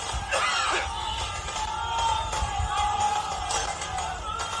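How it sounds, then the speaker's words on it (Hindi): A large street crowd cheers and yells around politician Arvind Kejriwal after his release from jail, a continuous loud roar of voices with whoops and shouts rising and falling. "सड़क पर जबरदस्त भीड़ है उनके साथ"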